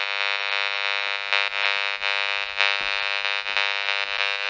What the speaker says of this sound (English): this is the sound of the Wi-Fi booster coming through my wall